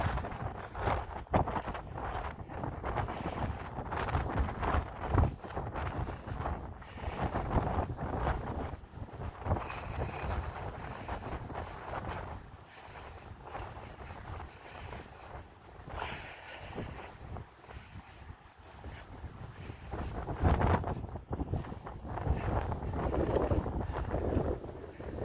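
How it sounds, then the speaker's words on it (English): Strong wind buffets the microphone on an outdoor morning walk, a steady roaring rumble with louder gusts that rise and fall throughout. "It's windy."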